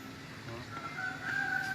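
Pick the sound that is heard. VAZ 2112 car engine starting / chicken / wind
chicken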